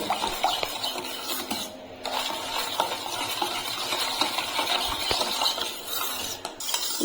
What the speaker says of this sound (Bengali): এখন সব কিছু ভালো করে একটু ফেটিয়ে নেব